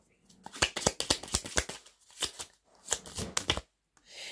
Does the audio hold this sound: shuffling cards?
yes